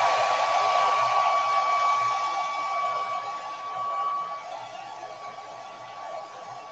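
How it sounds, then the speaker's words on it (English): A handheld blow dryer runs continuously close by, a steady whooshing airflow with a thin motor whine that dips slightly in level partway through, with no talking over it. "I'm going to take my blow dryer."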